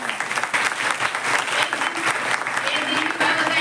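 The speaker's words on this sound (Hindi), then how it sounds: "ताली बजाओ बढ़िया से।" Students clap at a farewell function, a lively burst of many hands with uneven rhythm, while a voice speaks over the applause.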